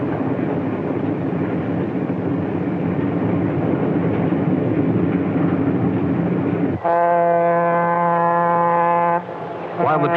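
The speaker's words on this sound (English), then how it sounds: "While the train speeds into the dusk" Rumbling passenger train running steadily along the tracks at dusk, then a loud horn blast sounds for a couple of seconds before it fades, from 1955 archival footage.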